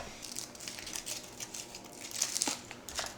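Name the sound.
unwrapping foil-wrapped peanut butter cups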